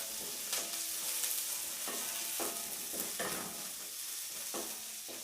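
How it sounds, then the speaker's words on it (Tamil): Green chillies and vegetables, including broad beans, sauté in a pan with a steady sizzle. Repeated scraping stirs come roughly every half second to a second, close and clear, with no talking. "நல்லா வதக்கி விடலாம்"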